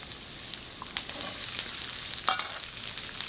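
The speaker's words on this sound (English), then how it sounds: "Add a little oil. Add our onions to get started with so that those sugars start caramelizing." Onions hit hot oil in a pan as a base for a holiday rib roast, giving a continuous close sizzle with occasional crackles and light stirring, no talking.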